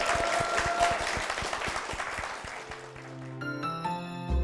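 A church congregation gives hearty applause for two members, a brisk burst of clapping that dies away after a few seconds as sustained organ-like tones take over.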